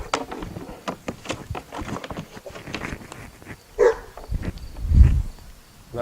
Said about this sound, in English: I'm not sure why my dog's barking